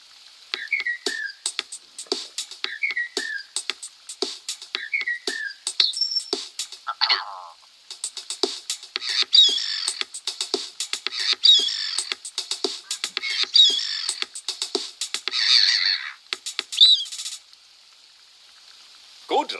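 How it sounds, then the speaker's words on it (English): A short tune built from recorded bird calls plays in the hunting game The Hunter COTW: repeated chirpy whistles and trills in a bouncy rhythm, clear and close, with a brief pause before the final phrases. "We recorded the call of some birds and made this."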